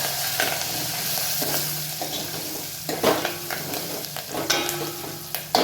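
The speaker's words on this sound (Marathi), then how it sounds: "मग घालतोय हा कढीपत्ता आणि मग हिरव्या मिरच्यांचे तुकडे आणि मग परत एकदा परतून घेणार" Curry leaves and green chilli pieces sauté in a pan for a traditional Maharashtrian taro-leaf dish, with a steady sizzle and repeated stirring scrapes and clinks of a spoon against the metal, close and continuous.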